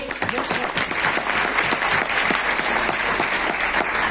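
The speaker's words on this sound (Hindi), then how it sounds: "एक बार जोरदार तालियां बजा देंगे।" A seminar audience breaks into brisk, sustained applause, a dense and even clatter of many hands clapping that fills the room for several seconds.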